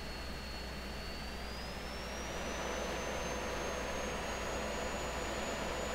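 In the Falcon BMS flight simulator, an F-16's GE-129 jet engine spools up from idle with a steady broadband roar and a slowly rising whine, fairly quiet and continuous, with no voices.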